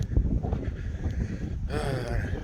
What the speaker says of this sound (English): It's windier as freak today.